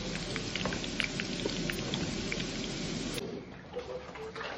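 Rice boils in a pot of water with a dense, loud bubbling roar that suddenly drops to a quieter simmer after about three seconds.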